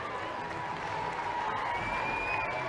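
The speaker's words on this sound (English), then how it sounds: "they are milking the applause from their supporters" Football supporters applauding in a stadium during a WSL women's match between Chelsea and Manchester United: a steady wash of distant crowd applause with some background chatter, holding at an even level throughout.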